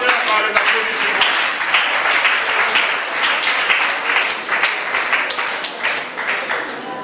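Sustained applause fills a church gathering as Pastor Kunima Kaninda comes forward, dense steady clapping from a crowd at close range, with voices mixed in throughout.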